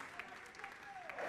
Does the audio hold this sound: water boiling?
no